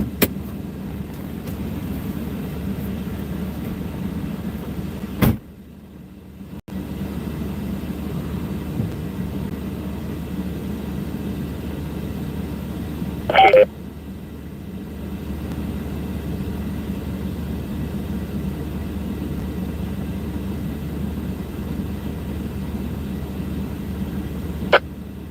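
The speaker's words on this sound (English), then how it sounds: "that is the car making noise" A steady low rumble of a car during a tornado chase fills the space, broken by a couple of short dropouts and a brief sharp burst partway through.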